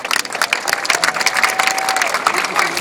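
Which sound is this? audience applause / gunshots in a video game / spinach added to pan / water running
audience applause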